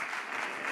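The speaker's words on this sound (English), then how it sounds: "I think the whole audience should give them a big round of applause for them." An audience at a women's empowerment event on nuts and dry fruits fills the room with dense, steady clapping that holds at an even level throughout.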